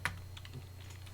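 Quick key presses on a computer keyboard, several light clicks in an uneven burst over a low steady hum, close and fairly quiet with no talking.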